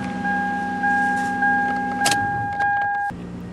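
Power windows on a Toyota Camry running repeatedly, a steady motor whine rising and stopping in several short bursts with a click at each end, close and fairly loud over a low electrical hum.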